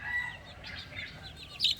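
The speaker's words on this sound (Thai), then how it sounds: "ความผูกพันความรักระหว่างไก่แจ้นะครับ ไก่แจ้ตัวผู้กับ ลูก ๆ" Bantam rooster and chicks in a pen, faint clucks and thin chick peeps drifting in from a short distance, quiet with no talking.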